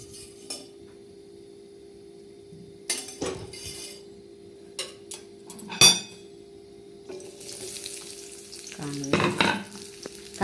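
Onions frying in hot oil in a kadhai for a home-style prawn curry, a steady close sizzle broken by scraping stirs and metal clinks of a spatula against the pan, louder bursts of stirring near the end.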